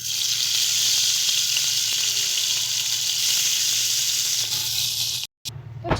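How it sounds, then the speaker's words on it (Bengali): Small morola fish fry in hot oil, giving a loud, continuous sizzle and bubbling close by that runs almost unbroken until a brief cut near the end. "একই রকমভাবে আমরা বাকি মাছগুলোকেও ভেজে নেব"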